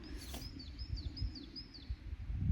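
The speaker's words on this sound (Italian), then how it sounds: "l'uccellino" A small bird chirps outdoors in the mountains near a cabin, giving a series of four or five short descending tweets at a steady rhythm, faint and somewhat distant over low ambient rumble.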